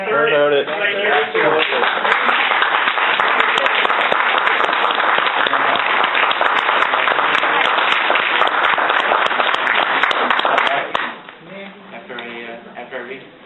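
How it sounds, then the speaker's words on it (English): Enthusiastic applause from the audience at a town hall meeting with Governor Patrick in Wareham, steady and loud for about eleven seconds before fading into quieter room noise. "Thank you for your enthusiastic applause."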